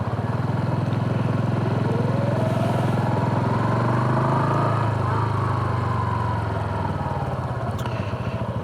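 A Honda Super Cub C125 motorcycle engine droning steadily while riding, loud and continuous with a rising and falling pitch as it accelerates, no talking over it.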